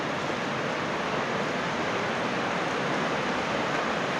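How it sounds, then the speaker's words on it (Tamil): Near Munnar, a large waterfall roars with a dense, constant broadband rush of falling water that stays unbroken throughout. "அவ்வளோ பிரம்மாண்டமாக இருக்குது இந்த அருவி."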